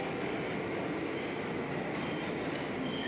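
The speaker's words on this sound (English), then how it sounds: "Stuck on the bloody train." A train runs on rails with a steady, dense rumble and hiss that continues unbroken throughout, moderately loud and with no voices.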